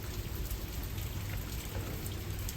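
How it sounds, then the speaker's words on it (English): Steady rain falling, a dense constant patter of drops on surfaces with no voices over it. "Enjoy the rain."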